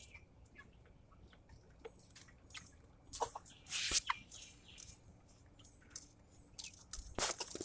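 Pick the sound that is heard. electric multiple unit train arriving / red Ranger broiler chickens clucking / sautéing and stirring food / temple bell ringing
red Ranger broiler chickens clucking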